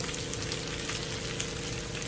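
Green plantains frying in oil with garlic and onion, a steady close sizzle with faint bubbling throughout, no voices.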